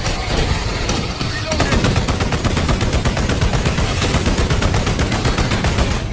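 Orbital guns blaze in a Warhammer 40k video game, a loud, relentless stream of rapid, evenly spaced shots over heavy rumbling battle noise, with a voice faintly mixed in.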